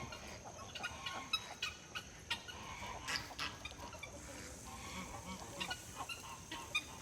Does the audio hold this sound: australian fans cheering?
no